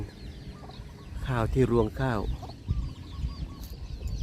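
Chickens cluck while pecking at rice ears on a decorative rice-stalk castle, soft clucks around a louder mid-clip burst, with someone talking over them.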